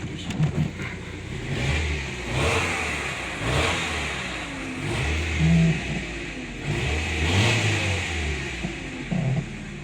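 A Volkswagen Passat B5 car engine runs close by, its steady rumble rising and falling through mild revs for about ten seconds with no talking.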